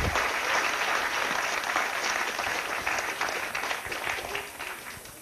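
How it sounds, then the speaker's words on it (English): Lecture-hall audience applauding a volunteer at a chemistry demonstration talk; steady, dense clapping from many hands, fairly close and loud, tapering slightly toward the end. "Well, I think we get a round of applause for the loser,"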